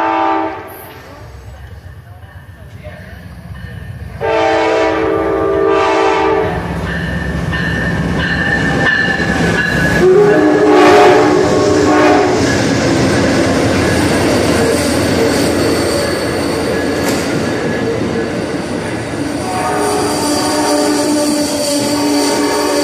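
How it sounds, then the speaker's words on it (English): A loud Amtrak Silver Star passenger train rumbles past with heavy clattering wheels and a blaring horn, building up and staying loud for a long stretch. "Star of the show, 92 Silver Star Amtrak."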